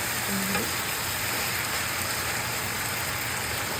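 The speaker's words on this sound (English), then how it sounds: "Let that simmer a little bit" Collard greens simmer in a pot, giving a steady close hiss and crackle of bubbling that stays even throughout, with no voices.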